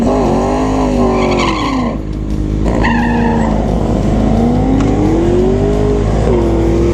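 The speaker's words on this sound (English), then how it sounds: "Oh, here comes the burnout." A modified Jeep does a tire burnout at a drag strip, its tires shrieking in a loud, sustained squeal that rises and falls over a roaring engine, close up and continuous.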